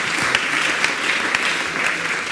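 Steady audience applause, a dense wash of clapping from many hands throughout, fairly close and even in loudness.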